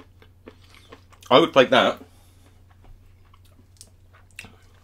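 Crunchy dark chocolate from a French combat ration is bitten and chewed close up, with a burst of three quick crunches, then faint chewing while a person speaks briefly.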